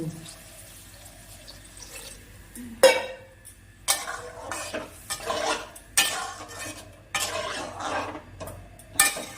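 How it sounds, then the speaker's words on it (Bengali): Mola fish being sautéed with potatoes in a pan, with a spoon scraping and stirring in irregular bursts over a low background sizzle, close by, with no talking. "মাছটা আলুর সাথে ভালো করে কষানো হয়ে গেছে"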